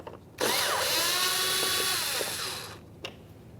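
Power drill backing Phillips head screws out of a 2010-2013 Kia Forte Koup front bumper cover, one steady whirring run of about two and a half seconds, close and loud, followed by a brief click.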